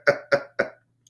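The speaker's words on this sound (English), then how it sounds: "smoker's cough" A smoker's cough: three harsh, chesty coughs in quick, even succession, close and fairly loud, followed by a brief quiet.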